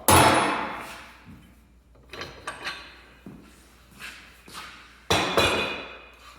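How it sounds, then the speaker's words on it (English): Sharp metallic taps ring out as a bearing is seated on a Dana 30 axle during a Jeep Wrangler TJ gear setup, with about six irregular knocks, some loud and some lighter, close by in a quiet workshop with no talking. "I tap a little bit to make sure that bearing's seated"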